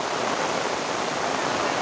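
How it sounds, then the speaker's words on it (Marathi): Heavy rain pours down on paddy fields in the Konkan, heard as a dense, even, continuous hiss with no breaks. "शेतकरी राजा पुन्हा आनंदित झाला कारण जोरदार असा पाऊस स्टार्ट झाला वाटतं"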